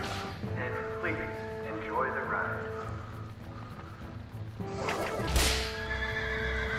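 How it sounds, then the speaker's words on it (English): A horse in the video game Rec Room neighs loudly and whinnies more than once, with clip-clop hooves and game sounds around it while people talk over the scene. "Whoa, I heard a horse."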